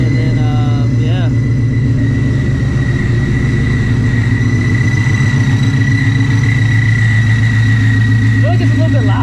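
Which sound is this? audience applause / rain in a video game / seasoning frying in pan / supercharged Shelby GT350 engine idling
supercharged Shelby GT350 engine idling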